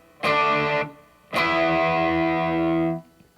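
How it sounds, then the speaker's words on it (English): Distorted electric guitar power chords, played as A5, D5 and E5 in sequence: a short, loud strummed chord, then a longer sustained one that cuts off cleanly, with no voices. "So those 3 chords in order, sounds like this."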